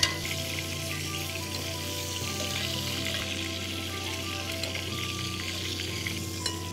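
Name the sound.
sautéing aromatics in a pan, frying sizzle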